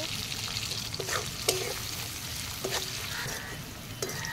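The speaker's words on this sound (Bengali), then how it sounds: "পেঁয়াজগুলো একটু আধ ভাজা করে ভেজে নেবো" Onions and green chillies sizzle steadily in hot oil, with a constant crackling hiss and a few sharp clinks from stirring.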